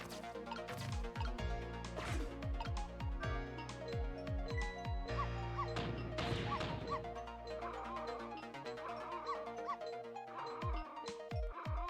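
A small dog barks repeatedly in the puzzle adventure video game Ghost Trick, sharp yipping electronic barks in quick bursts layered over a bright tinkling melody and game effects.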